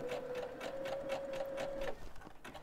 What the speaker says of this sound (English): I'm still doing the zigzag stitch, and I'll start stitching, and then I am gonna back stitch